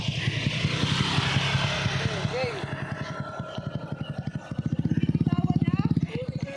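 A motorcycle engine idles and putters during a beginner's first riding practice, a steady low pulsing throb that grows louder and faster near the end, heard under people talking nearby.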